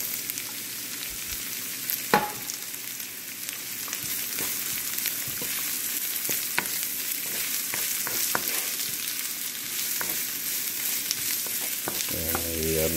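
Garlic and onions fry in a pan for pork humba, with a continuous close sizzle broken by scraping stirs, and a clink near the end.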